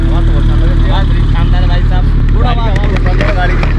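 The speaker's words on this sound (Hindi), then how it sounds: "अच्छा गाड़ी की आवाज शानदार है" A Suzuki Hayabusa superbike engine drones loudly and steadily at speed on a highway toll-road run, with continuous conversation over it.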